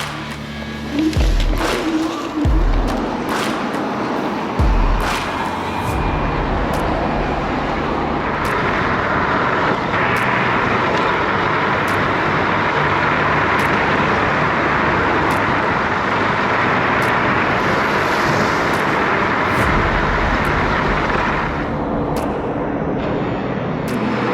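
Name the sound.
electric scooter in dual motor mode climbing a hill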